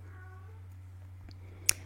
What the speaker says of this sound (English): sorry if you can hear the cats meowing